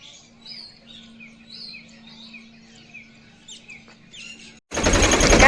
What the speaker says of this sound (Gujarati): આમાં જો મોર આંબામાં